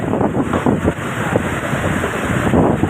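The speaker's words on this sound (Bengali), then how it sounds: "জাহাজ ঘুরাতে পারতেছে না প্রচণ্ড বাতাসের চাপের কারণে" Strong wind buffets the deck of a ship, the Parabat 18, on a river, roaring steadily with gusty rumbles and low water noise, no voices.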